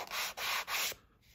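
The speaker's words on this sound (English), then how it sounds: "Just take your sanding block," A sanding block rubs across the rough edge of thick paper cut on a slicer, making three close, dry scraping strokes in a steady back-and-forth rhythm.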